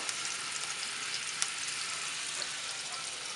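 Meatballs fry in a hot pan with a steady, fairly faint sizzle and crackle, a single sharp pop cutting through near the middle and no voices.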